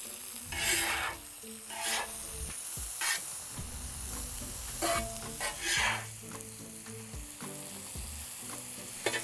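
Mushrooms and onion fry in a pan with a steady sizzle, while a utensil stirs and scrapes them in repeated strokes, close and clear.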